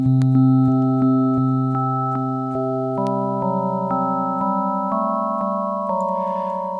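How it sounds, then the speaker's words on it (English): Sine wave oscillator on the Nightlife VSTi synthesizer, sounding steady sustained electronic tones that shift to new pitches about every second, clear and alone with no voices. "And that's just on a sine wave"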